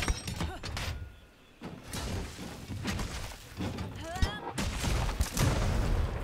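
Rapid burst-fire gunshots from a weapon in Monster Hunter World, a loud cluster of sharp cracks amid game combat effects and clashing impacts, with voices talking over parts of the action.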